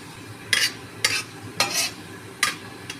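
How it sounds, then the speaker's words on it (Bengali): Chopped garlic, five or six cloves, sizzling in hot oil in a home kitchen pan, with several sharp bursts of spatula stirring and crackle over a low steady hiss, close and moderately loud, no talking. "তেল গরম হয়ে গেছে, এবার রসুন কুচিগুলো দিয়ে দিচ্ছি"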